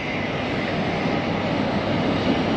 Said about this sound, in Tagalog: At meron palang dadaan na tren. Ito pala yung tren.